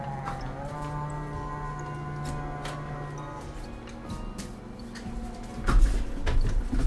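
Cows on a video-game farm moo in long, low, drawn-out calls over a steady ambient backdrop, with a burst of louder clatter near the end.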